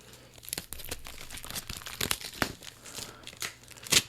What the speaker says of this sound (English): I think you probably could hear that tape unwrapping there